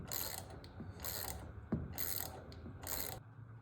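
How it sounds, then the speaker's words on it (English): A ratchet clicks in four quick bursts while tightening a part on a Kohler engine. Each burst is close and crisp, with a short pause between strokes and no talking. "You don't want to get this thing too tight, just nice and snug."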